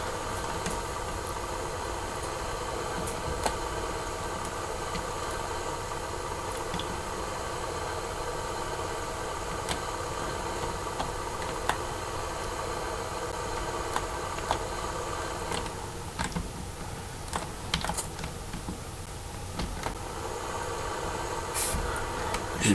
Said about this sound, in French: juste baisser un peu le son de ce tracteur là.